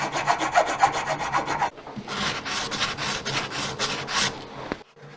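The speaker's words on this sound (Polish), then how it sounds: "czyli szlifujemy kołnierzyk" Hand sanding of a metal collar that holds a set stone in jewellery work, with quick rhythmic rasping strokes, then a shift to slower, rougher rubbing that ends with a brief click, close and alone.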